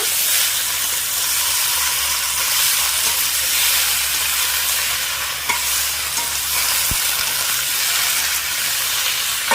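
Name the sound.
gourd stems stir-fried with fried potato and papaya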